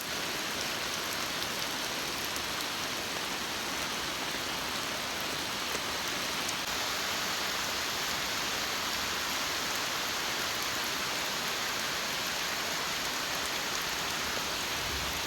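Steady heavy rain pours down onto a thatched grass roof of a field hut overhead, a dense constant patter that continues without pause.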